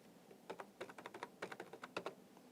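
Quick bursts of key presses on a computer keyboard as an amount is entered into tax accounting software, close and crisp, in short irregular clusters over a quiet background.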